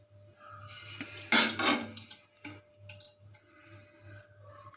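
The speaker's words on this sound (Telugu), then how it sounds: "ఇప్పుడైతే ఇక అన్నం అయితే తింటూ ఉన్నాను." Spoon and fingers clink and scrape on a plate while eating rice with potato curry, a few sharp close clatters with a louder burst early on, then softer scattered taps over a steady low hum.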